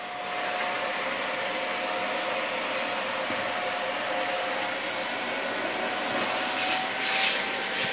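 A vacuum cleaner runs steadily and close up, sucking debris out of a disassembled Samsung front-load dryer: a continuous loud whooshing roar with a thin whine, shifting slightly as the nozzle moves, no voices.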